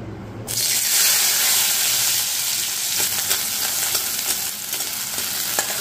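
Boiled eggs dropped into hot oil in a kadai after being rubbed with salt and turmeric, erupting into a loud, steady sizzle after a brief quiet start and crackling on without pause.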